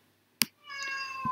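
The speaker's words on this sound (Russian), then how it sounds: "Извиняюсь за шум, что орёт кот." A house cat yowls loudly and close by in a long drawn-out cry after a brief sharp sound, with a soft thump following, and no voices.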